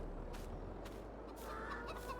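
Chickens cluck softly in the Farming Simulator 22 video game, with faint, scattered calls over a low, steady background hum.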